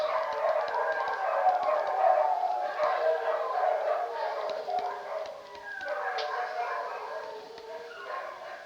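Several dogs bark and howl together in a continuous chorus, with sustained wavering howls layered over scattered barks at steady moderate loudness and no speech.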